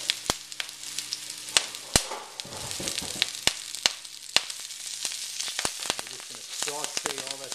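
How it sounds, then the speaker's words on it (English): Onions sautéing in a pan with a cinnamon stick, cloves, curry leaves and green chilies for a Sri Lankan sour fish curry, a soft steady sizzle broken by sharp clicks and stirring scrapes. "Saute all that stuff together until the onions are nice and cooked."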